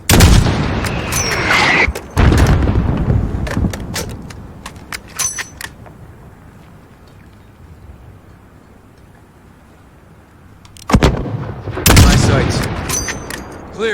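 Sniper rifle fire and blasts from a Call of Duty mission against a mortar team, with loud sharp shots and booms at the start and again near the end, separated by a quieter stretch of low rumble.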